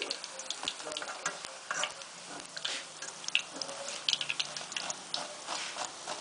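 Cabbage pakoras crackle and sizzle steadily in hot oil, a dense, close frying hiss with sharp popping bursts throughout.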